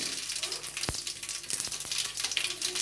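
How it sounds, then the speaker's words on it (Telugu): Tempering seeds crackle and sizzle in hot oil, a dense continuous frying hiss close to the pan with a few sharp pops and stirring knocks. "ఆయిల్ వేడెక్కింది, పోపు గింజలు వేసుకున్నాం."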